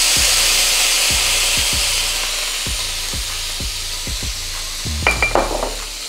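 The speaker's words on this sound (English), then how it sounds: "Then we're gonna glaze the pan with a little wine." Wine poured into a hot pan of browned garlic and shallots, giving a steady loud sizzle with a regular low thumping underneath, then a few clinks and scrapes of a spoon at the end.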